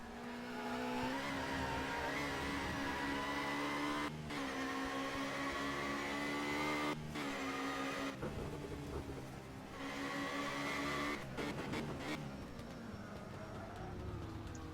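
Race car engines rev loudly and continuously in a BTCC 1996 touring car race game at Oulton Park, with steady engine tones and brief dips as gears shift, alone without talk.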